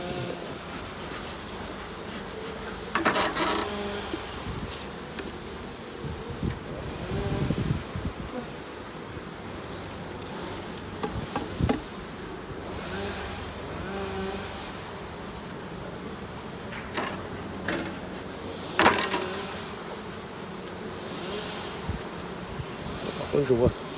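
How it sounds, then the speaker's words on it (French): A honeybee colony drones steadily at the hive entrance ahead of overwintering, a dense continuous buzz with foragers bringing in pollen, with occasional louder passes and rustling handling noises. "Les abeilles rentrent énormément de pollen."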